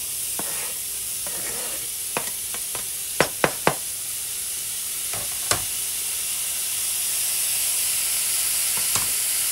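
Chopped mushroom stems fry in a pan on low heat, giving a steady soft sizzle with a few sharp utensil knocks and scrapes against the pan.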